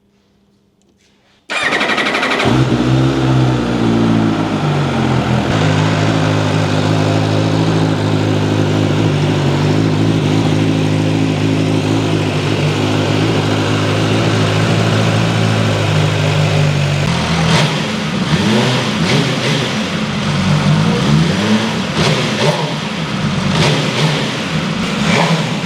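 An MV Agusta Superveloce 1000 motorcycle engine fires up abruptly after near silence, then idles loud and close with a steady throb. Near the end come several quick throttle blips.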